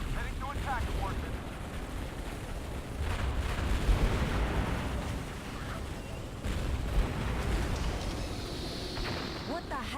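Artillery ordnance explosions in the video game Halo Wars, heavy booming blasts and rumbling bursts rolling over each other in a dense battle din, with voices talking over the fighting.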